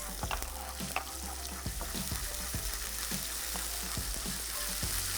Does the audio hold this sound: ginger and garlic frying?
yes